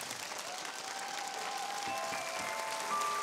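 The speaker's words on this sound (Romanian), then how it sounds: "Aplauze pentru Gary Cosma!" Sustained applause from a studio audience at a Romanian talent show semifinal, greeting magician Gary Cosma; dense, steady clapping fills the whole stretch at even loudness, with a faint tone holding beneath it.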